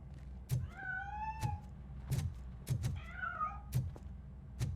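A cat meows twice in the video game Robocop Rogue City, drawn-out cries set between regular soft thumps, with no talking.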